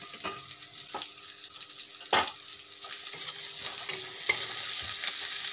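Chopped onion fries in mustard oil with a gentle, steady sizzle, punctuated every second or so by sharp clicks and scrapes of a spatula stirring the pan; no voices.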